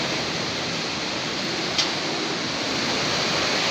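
Strong typhoon wind during Typhoon Tino, a steady, loud rushing roar blowing continuously close to the microphone, with a faint high whistle briefly rising in the middle.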